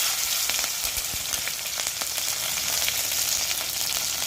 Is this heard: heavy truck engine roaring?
no